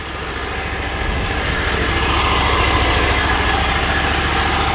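A Ferris riding mower engine runs steadily, driving its Hydro Gear transaxle to work air out after an oil change. The drone is close, constant and fairly loud, with no talk.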